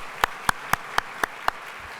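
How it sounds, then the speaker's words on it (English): Audience clapping after a university panel discussion on bullying, heard as six evenly spaced, distinct claps that sound like one person clapping in a steady rhythm, then stop. "let's give Renee and this incredible panel a round of applause"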